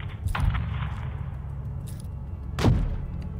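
Two or three heavy shots with thudding impacts in Call of Duty: Modern Warfare II, the loudest near the end, over a low droning game background.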